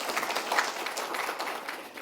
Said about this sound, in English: Let's just start by giving them all a round of applause.